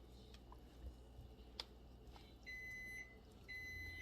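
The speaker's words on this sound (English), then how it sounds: "Hold on, microwave." A kitchen microwave beeping faintly in the background: two steady electronic tones, each about half a second long, spaced a second apart, alongside light clatter and low room noise, with no talk.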